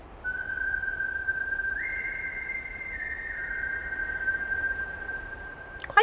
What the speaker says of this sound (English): he started whistling quietly